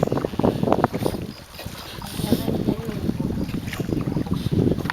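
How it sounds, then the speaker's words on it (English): Wind buffets the microphone in steady gusts over water on a boat at Trang An, Vietnam, with the boat's engine rumbling underneath and faint voices in the background. "it's nice windy, right?"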